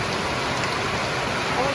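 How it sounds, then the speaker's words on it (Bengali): Rain falls in a dense, even hiss, a close, continuous patter of drops on surfaces for a short stretch with no break. "অবশেষে বৃষ্টি দেখা মিলেছে"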